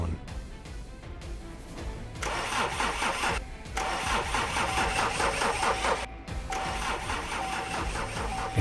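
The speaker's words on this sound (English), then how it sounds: "I ran into my car and turned the engine on." A car engine is cranked repeatedly, with whirring starter bursts separated by short gaps, each attempt catching into a rough, loud mechanical churn before cutting off, heard up close with no voices.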